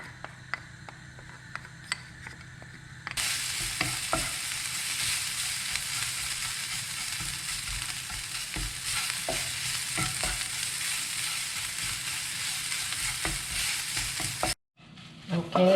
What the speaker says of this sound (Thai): จะถ้าเวลาผัดแบบนี้นะคะ มันจะใช้น้ำมันมะกอกอย่างเดียวนะคะ